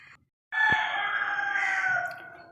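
A rooster crows once, loud and close, a long drawn-out call lasting about two seconds after a brief quiet moment.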